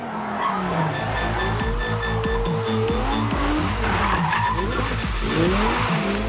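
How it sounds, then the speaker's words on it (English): An Audi R8 spins donuts on a dirt road. The engine revs rise and fall in wavering pitch while tires scrabble and skid continuously, close and loud throughout. "we kind of let loose a little bit, did some donuts and just torqued the dirt a little bit"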